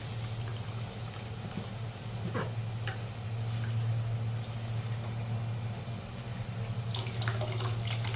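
Coconut milk simmers and bubbles in a pot, a soft, steady burbling with faint crackles, heard alone without speech.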